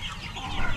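Young Rhode Island Red chickens give a brief burst of soft, overlapping clucks and chirps, close by, with a faint rustle underneath.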